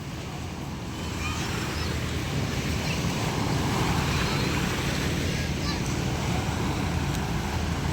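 Sea waves wash onto the shore beside a fish market in Tanza, Cavite, heard as a loud, steady rush with wind noise and no clear break between waves.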